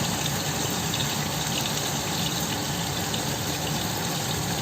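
Water is poured into a cooking pot of masala for a small-fish curry, a loud, steady gushing stream that runs unbroken for several seconds with no talking.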